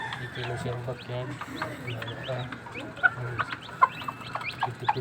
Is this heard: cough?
no